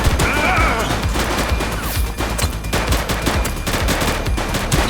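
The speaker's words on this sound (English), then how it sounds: "He's shooting!" Loud, sustained gunfire erupts in a police shootout in the video game The Precinct, with rapid overlapping bursts and crashing impacts continuing almost without pause.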